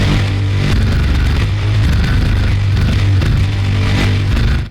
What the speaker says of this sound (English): Next up we got corrupt lead.